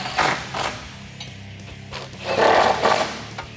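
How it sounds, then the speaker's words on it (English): A 13mm swivel socket on a ratchet tightens exhaust clamp bolts on a 2009-2014 Dodge Challenger 5.7L during a Flowmaster cat-back install: close, rapid ratcheting clicks in bursts, with metallic clanks between them. "I'm gonna use a 13mm swivel socket to tighten them down."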